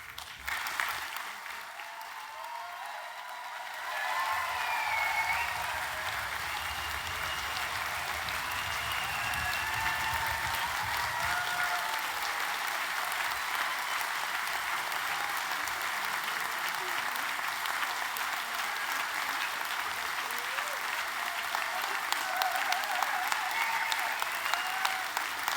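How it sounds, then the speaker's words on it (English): A large audience at a graduation ceremony claps after the presentation of students, sustained and even applause that swells in after a few quiet seconds and continues at a steady level with scattered louder claps. "Lots of applause"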